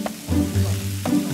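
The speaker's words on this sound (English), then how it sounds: "I'm quickly frying the marinated pork with vegetable oil to seal in the flavors." Marinated pork hits hot vegetable oil in a wok during Cantonese cooking, giving a loud close sizzle with bursts of stirring and frying crackle.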